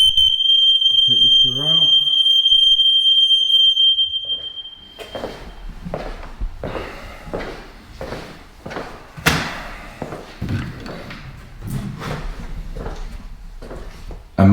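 A house smoke alarm sounds a loud, steady high-pitched tone for about five seconds before cutting off, after which someone talks over light clattering and thumps.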